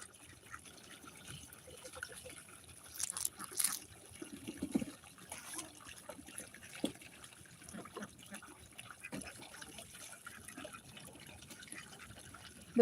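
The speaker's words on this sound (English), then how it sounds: "But here's our ducks splashing around." Ducks splashing and bathing in water outdoors, producing soft intermittent splashes and trickling, dripping water at moderate distance, with a brief flurry of louder splashing early on and faint voice in the background.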